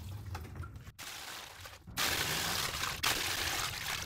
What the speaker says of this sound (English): Filling this reservoir up with water from the sink.